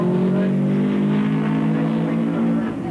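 Subaru rally car at the Rally of South Africa, driving on after a harmless spin, its engine droning steadily and loud at close range with a sustained low harmonic hum and no pauses.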